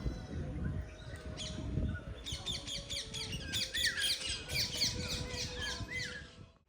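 Parrots and other birds call at the Thirupoovanur temple, repeated sharp squawks and chirps in quick bursts over a low background murmur, moderately close and fairly quiet overall.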